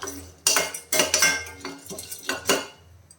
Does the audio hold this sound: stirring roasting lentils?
yes